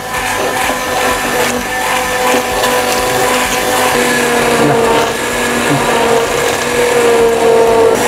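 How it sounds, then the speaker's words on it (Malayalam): A hand blender whirs steadily through hot spinach soup, a loud, continuous motor drone with a grinding, churning edge that shifts slightly in pitch as the blade moves through the pot. "ഞാൻ എന്താ ഒരു ഹാൻഡ് ബ്ലെൻഡറാണ് എടുത്തിട്ടുള്ളത്"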